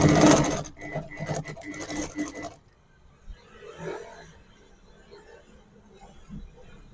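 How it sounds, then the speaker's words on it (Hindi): Sewing machine stitching a fold of fabric while a bra is being made, a quick burst of loud, rapid mechanical needle chatter lasting about two and a half seconds, then fainter handling and rustling sounds. "और यहाँ पर एक सिलाई लगा देना है।"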